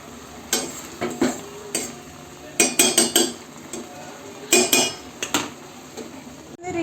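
Maggi instant noodles are stirred in a pan with a utensil, producing a series of close clinks and scrapes in short bursts over a faint sizzle.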